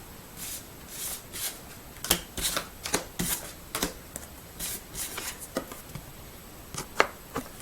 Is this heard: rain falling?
no